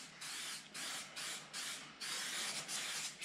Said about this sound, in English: it says just give it a spray